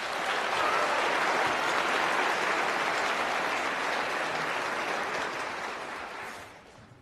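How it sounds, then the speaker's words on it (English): A school choral concert audience at a county chorus event applauds its choir soloists, dense sustained clapping filling the hall at steady strength before tapering off over the final second. "Let's give them another round of applause."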